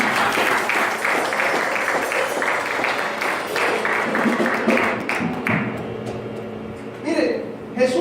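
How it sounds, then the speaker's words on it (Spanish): Applause in a church congregation, a steady wash of clapping that fills several seconds and then thins out, with some voices or music mixed in near the end. "Denle un aplauso al Padre"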